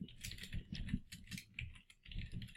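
Quiet, close typing on a computer keyboard in irregular bursts of soft clicks, with no voices.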